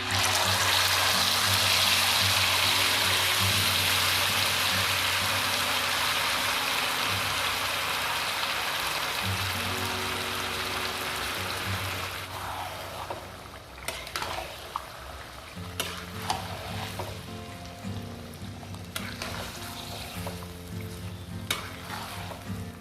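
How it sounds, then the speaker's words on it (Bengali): Marinated mutton for chaap hits hot oil in a home kitchen with a loud, dense sizzle. The sizzle fades over the first half, then gives way to scattered spoon scrapes and crackles. No one speaks. "তেলটা গরম হয়ে গেছে, এবার আমরা মাখিয়ে রাখা মাংসটা পুরো ঢেলে দিচ্ছি।"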